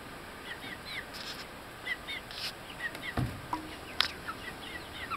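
Chickens in a backyard coop clucking and chirping softly over a steady background hiss, with scattered short calls throughout and a few louder clucks.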